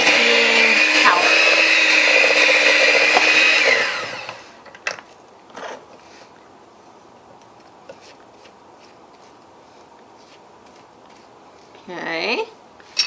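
An electric mixer whirs loudly through sugar cookie dough for about four seconds, then stops. A few clicks and scrapes follow, then a short whir near the end.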